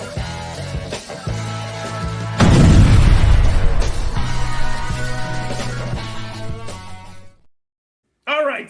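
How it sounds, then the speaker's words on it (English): Fireworks set off during a casual Smash or Pass game, with a loud boom and crackling burst that rings out and decays over several seconds, background music and voices nearby, then a brief silence and a sharp high whistle. "I brought the fireworks out."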